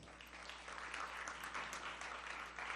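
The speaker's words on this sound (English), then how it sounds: "Everyone, please give them a round of applause." At a State of CUSA conference event, a crowd applauds two honorees, a faint, steady wash of many hands clapping at a distance over low background hum.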